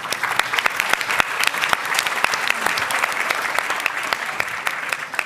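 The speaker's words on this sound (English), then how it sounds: "Applause for all." Scattered audience applause at an energy forum, with many sharp individual claps standing out over a steady wash of hand claps, fairly close and even in level throughout.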